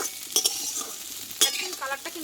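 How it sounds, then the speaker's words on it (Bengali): Potato and kochu being fried with gram flour in a pan, stirred with repeated utensil scrapes over a steady sizzle, close and clear with no talking. "আর বারে বারে নাড়াচাড়া করতে হবে যেহেতু বেসনটা আছে পুড়ে না যায়"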